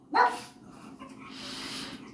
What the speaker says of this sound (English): Hey, what are you barking for?